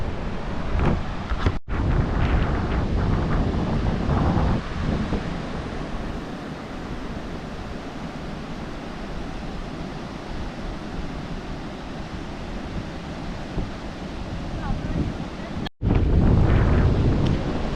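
Steady wind buffets the microphone on Gobardhanpur sea beach at the edge of the Sundarbans, with a continuous low roar of surf beneath it. Brief dropouts break the rush near the start and end.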